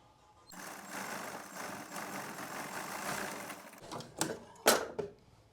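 A sewing machine runs steadily while stitching the seat seam of a straight pant, a continuous close hum that breaks into a few short bursts and clatters near the end.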